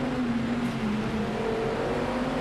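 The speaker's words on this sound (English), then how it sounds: "Get that F1 style sound on the downshift." An IMSA GTD race car in Project CARS 2 drones steadily through the Rolex 24 banking in sixth gear, a loud continuous engine tone with a slight pitch shift, no talk.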